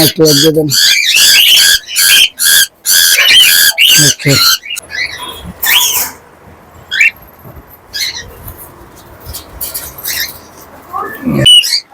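Pet cockatiels and other birds on a bird farm give loud, sharp, repeated squawks in rapid bursts at the start, then someone talks over quieter scattered bird calls.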